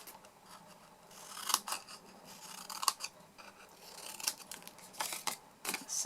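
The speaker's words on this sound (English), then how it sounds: "we're going to grab our snips and again cutting wedges out of the 2" Snips slice wedges from the card sides of a handmade candle box, a run of quiet, irregular close-up snipping and rasping cuts with several sharper clicks of the blades closing.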